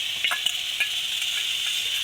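Dried fish chili curry (shutki jhal) frying in a pan, a dense, steady hiss of sizzling oil with faint scrapes of a spoon stirring through it, close and continuous, no voices.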